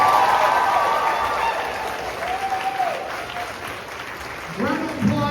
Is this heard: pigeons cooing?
no